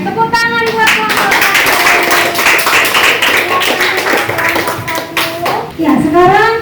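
A classroom of children claps for a student group during a school environmental-care lesson: steady, dense hand clapping that runs close and loud for several seconds, with young voices calling out over it.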